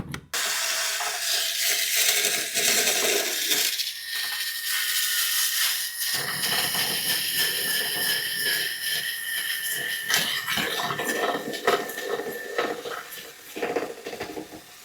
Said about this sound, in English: So we're just kind of drilling this out.